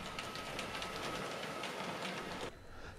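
An H0 scale model railway train runs along the layout with a faint, steady clattering rumble and rhythmic clicking that drops off abruptly near the end.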